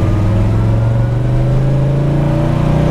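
A 1961 Pontiac Catalina with a 421ci engine and four-speed gearbox revving hard, a deep, loud, steady engine drone rising slightly in pitch, close up with no talking.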